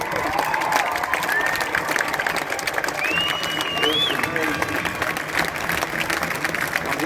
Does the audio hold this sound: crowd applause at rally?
yes